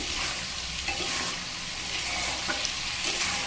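Spice paste with sesame paste, being fried and stirred for ash gourd greens, gives a steady loud sizzle with scraping stir strokes throughout, close up and with no talk.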